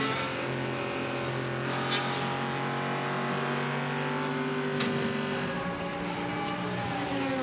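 Race car engine at the 24 Hours of Le Mans 2013, heard on board: a steady, loud sustained drone with shifting pitch as the car runs, continuous and alone without talk.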